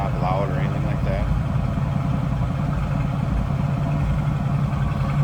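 A 1979 Chevrolet Camaro Z28 idles with a steady, loud low exhaust rumble throughout, while a person speaks briefly near the start.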